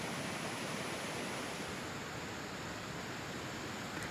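Small waterfalls murmur in a snowy winter landscape at Plitvice Lakes, a faint, steady broadband rush of falling water with no other sounds.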